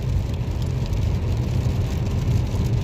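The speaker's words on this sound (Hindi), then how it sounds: "ये बारिश हो रही" Rain falling on a moving car in Saudi Arabia, heard from inside as a steady low rumble of road and engine noise with soft drumming of drops on the body, constant and unbroken.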